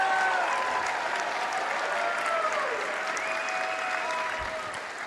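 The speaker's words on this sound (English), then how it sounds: "Yes, clap for our Jewish brothers and sisters." An audience claps together, steady dense applause at close range with faint tonal sounds above it, easing slightly toward the end.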